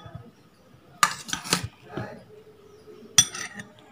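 Pieces of cut fruit—banana, papaya, grapes, guava and cucumber—dropped one by one into a bowl, giving a few soft clinks and knocks at close range in a quiet room.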